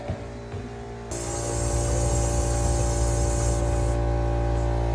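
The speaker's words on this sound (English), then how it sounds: "we have the compressor running in here, charging up" A motor kicks on about a second in and settles into a steady, loud hissing drone as an air compressor runs continuously, recharging its tank at a cottage.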